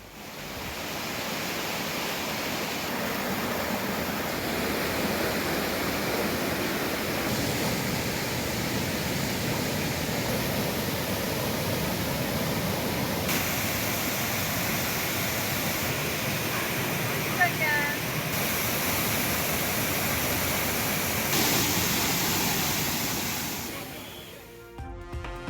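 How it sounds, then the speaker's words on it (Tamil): Heavy floodwater pouring over the Thirparappu waterfall after intense rain, a steady loud broadband roar that holds constant for about twenty-five seconds with no voices, fading out near the end. "கனமழை காரணமாக திருப்பரப்பு அருவியில் கடும் வெள்ளப்பெருக்கு"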